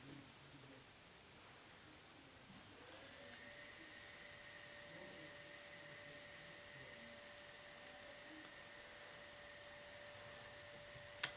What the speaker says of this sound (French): Désolée pour les bruits d'aspirateur, je sais pas si vous les entendez